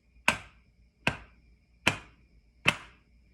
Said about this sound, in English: if we're just clapping, it's gonna sound like this.